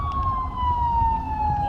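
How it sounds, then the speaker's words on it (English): Vehicle siren sounded up close, a loud sustained tone gliding slowly downward with a low engine rumble underneath and faint voices in the background. "Napenda piga siren."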